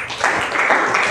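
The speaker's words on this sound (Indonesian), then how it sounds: "Tepuk tangan untuk kelompok." A short burst of clapping from a classroom of students applauding a group during an Islamic education lesson, brief and fairly close with no one speaking.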